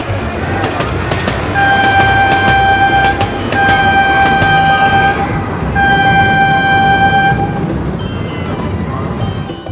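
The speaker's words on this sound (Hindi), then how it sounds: "ट्रेन चलने के लिए तैयार है देखिए।" A toy train ride departs at a village fair at night, sounding three loud, sustained horn toots in a row over a busy, noisy fairground crowd, with voices audible in the background.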